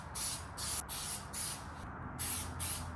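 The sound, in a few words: spraying Plasti Dip coat on car emblems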